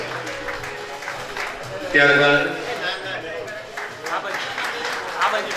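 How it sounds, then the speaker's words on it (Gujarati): Applause for an honoree at a Corona Warriors award ceremony held by a grocery traders' association in Amreli, a steady crowd clapping that swells sharply for a moment, continuing under someone speaking over a microphone. "દરેક સન્માન માટે તાળીઓનો નાદ હોવો જોઈએ"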